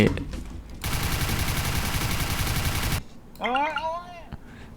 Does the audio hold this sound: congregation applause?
no